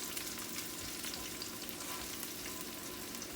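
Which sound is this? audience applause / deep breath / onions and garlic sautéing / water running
onions and garlic sautéing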